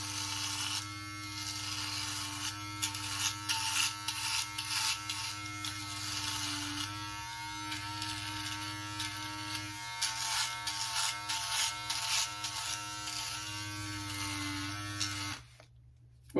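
Yabife beard trimmer running steadily for about fifteen seconds with a constant electric buzz and hum, near and loud, with slight pitch shifts as it moves against the skin, then switching off abruptly near the end.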